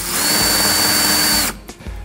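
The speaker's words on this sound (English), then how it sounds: "the whole thing is drilled down into position" A power drill drives a screw down through a multiwall polycarbonate roof sheet, a loud, steady close whine for about a second and a half that stops abruptly, followed by a few faint clicks.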